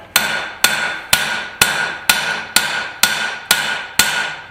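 A hammer strikes hot steel while flattening a forged garden cultivator, nine sharp ringing blows at an even, steady rhythm, each decaying quickly, close and loud with no talk.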